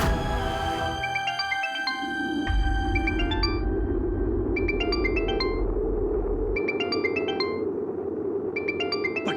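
A mobile phone rings with a short, bright chiming ringtone melody that repeats roughly every two seconds, sitting over a steady low hum of background music.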